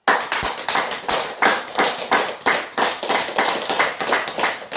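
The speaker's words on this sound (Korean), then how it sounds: "이번에 박수는 건강을 위해서 한번 치겠습니다." Elderly audience at a senior citizens' center in Uiwang clapping hands together in a brisk, steady rhythm as a health exercise, dozens of evenly spaced claps filling the room, close and lively.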